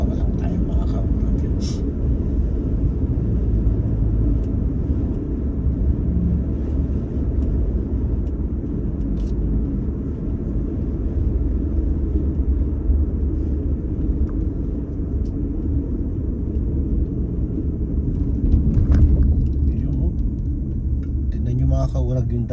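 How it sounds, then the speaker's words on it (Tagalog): A very large vehicle with big wheels rolls past, giving a heavy, continuous low rumble that swells slightly near the end, with faint scattered background noises. "Mga kaurag yung dadaan sa ating harapan napakalaking sasakyan."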